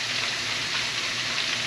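Vegetables frying in hot oil give off a steady, close hiss and crackle of sizzling with no pauses and no voices.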